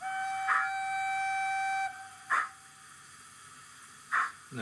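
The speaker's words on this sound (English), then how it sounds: "Short whistle" Short whistle blast from a sound-fitted Rapido LBSCR E1 model steam locomotive, ending about two seconds in, followed by regular spaced exhaust chuffs at an easy rhythm.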